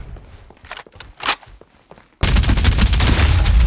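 Gunfire in the video game Farlight 84 mobile: scattered sharp shots and thumps at first, then a sudden loud, dense burst of rapid automatic fire that continues to the end.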